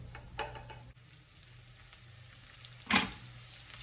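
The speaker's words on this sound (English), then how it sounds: "let me just cook up these onions a little bit" Onions fry in a pan for corned beef with a soft, steady sizzle, broken by a couple of brief, close clinks of utensils.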